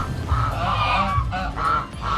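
A goose at a farmhouse resort honks loudly and close by, a run of repeated nasal calls in quick succession with short gaps between them.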